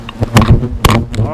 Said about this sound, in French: Mais le frelon européen, le bruit, c'est quand même plus impressionnant.